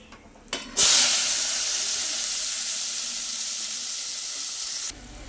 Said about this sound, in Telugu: ఇలాగా నీట్గా వేపుకుందాం ఆనియన్స్ మొత్తాన్ని